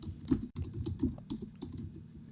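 Computer keyboard typing during work in Canva: quick, close key clicks in an irregular patter, with one brief pause partway through.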